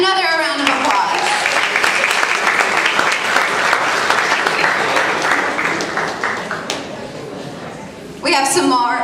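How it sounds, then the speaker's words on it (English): Audience applause at a high school awards ceremony, a sustained dense round of clapping from a crowd that fades toward the end, with a voice speaking briefly at the start and again as it dies down. "Very nice. Another round of applause."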